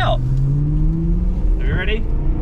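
BMW M3 engine revving hard while driving over bumpy off-road ground, a loud rising drone with pitch sweeps close by, with a voice speaking over it briefly.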